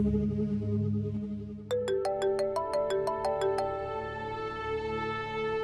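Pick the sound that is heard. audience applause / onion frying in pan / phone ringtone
phone ringtone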